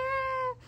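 A pet cat gives one short, close meow that rises and then falls away, alone in a quiet indoor room.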